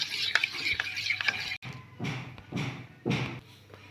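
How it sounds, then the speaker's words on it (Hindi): A spoon whisks curd and ghee together in a bowl, making a few rhythmic scraping, slapping strokes that grow more regular toward the end, with some softer clinks before them. "अब इसे हम अच्छे से फेंटेंगे।"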